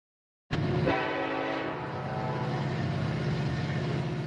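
A train sounds its horn at the Rockland Road crossing on Route 658 in Warren County, the loud sustained blast fading into steady rumbling of rail cars rolling past close by.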